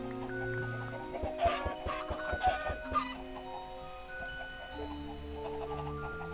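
Chickens in the Minecraft video game cluck in a brief cluster of short, sharp calls over a steady background hum, with quieter clucks trailing after, no talk.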